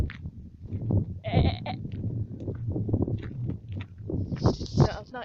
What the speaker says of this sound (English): Yeah, that's the goat people. And those are some sheep.